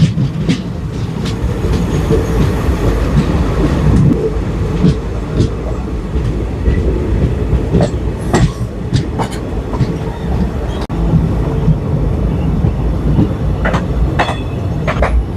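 Indian express passenger train on an Assam line near Simaluguri, steady loud rumble of wheels on rails with occasional clicks and metallic squeaks, continuous throughout, heard from on board.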